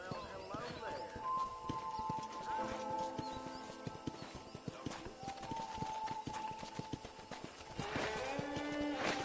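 Horse hooves clop at a walking pace in Red Dead Redemption, amid dense game ambience, with music and tonal effects layered over the steady footfalls.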